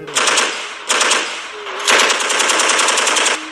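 A Soviet Kalashnikov rifle fires several loud, rapid bursts of automatic gunfire at close range, the shots rattling in quick runs broken by brief gaps.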